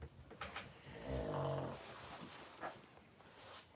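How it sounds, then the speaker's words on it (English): A dog named Huggins snores in a few rough, rumbling breaths with a brief nasal snort in the middle, close and fairly quiet against a low room background. "No one likes to hear you snoring."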